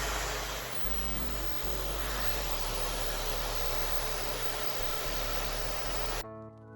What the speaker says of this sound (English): I just grab my blow dryer, put my diffuser on,